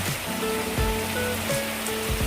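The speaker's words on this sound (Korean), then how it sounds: "갑자기 소나기가 엄청 내린다." Sudden heavy summer downpour over a small vegetable garden, a dense continuous hiss of rain close by, with a faint tonal hum underneath.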